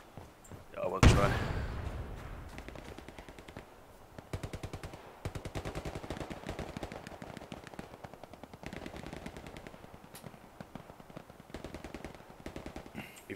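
Rapid machine-gun bursts in the World War II shooter Hell Let Loose, opening with one loud close blast, then long stretches of fast rhythmic gunfire at moderate distance; voices talk faintly underneath.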